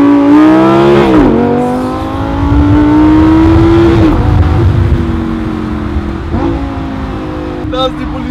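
A Lamborghini engine roars and revs hard while the car drifts, the loud pitch climbing, dipping and climbing again with shifts and a brief tire squeal, up close throughout.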